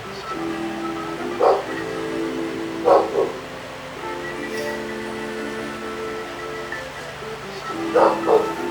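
A dog barks a few times in short bursts at moderate distance, over steady background hum and music-like tones, with a voice speaking at times.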